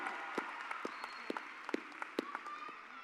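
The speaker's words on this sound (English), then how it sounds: "please join me in a huge round of applause for these amazing graduates" Scattered clapping and applause from a high school graduation audience, thin and fairly distant, with sharp individual claps popping out over a low murmur of the crowd.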